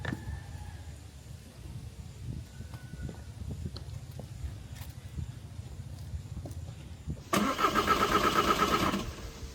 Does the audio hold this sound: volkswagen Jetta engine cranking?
yes